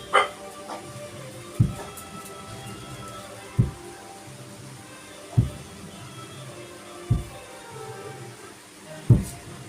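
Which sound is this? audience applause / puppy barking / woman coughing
puppy barking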